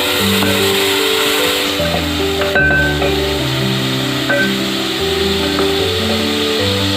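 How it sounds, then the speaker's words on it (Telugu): Ginger garlic paste frying in oil during home cooking, giving a steady close sizzle and hiss throughout, layered over sustained melodic background tones. "మనం ఇందులోనే ఒక 2 table spoon ginger garlic paste వేసి దాన్ని కూడా ఫ్రై చేయాలి."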